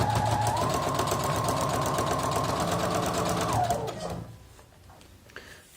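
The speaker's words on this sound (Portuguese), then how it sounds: "eu vou costurar aqui onde tá o meu alfinete" A sewing machine stitches fabric sewn onto a paper foundation, running as a loud, steady, rapid mechanical whir for about four seconds before stopping and fading to near quiet.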